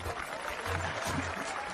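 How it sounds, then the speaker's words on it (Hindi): A crowd clapping in a short, soft burst of applause, fairly distant and muffled, with faint voices underneath. "तालियां बजाओ।"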